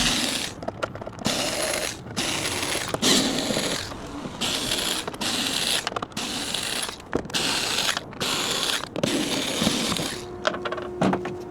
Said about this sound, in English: I'm gonna go ahead and start with removing all these screws